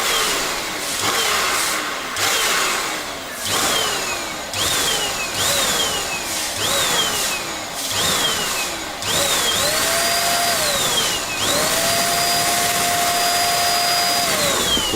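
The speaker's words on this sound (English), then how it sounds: "I wonder if I could cool it down with my air blower" An electric air blower aimed at electronics during a repair, loud and close, repeatedly revving up and winding down in short bursts before holding a steady, sustained whine, with no talking.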